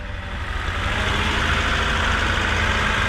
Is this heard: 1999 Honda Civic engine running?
yes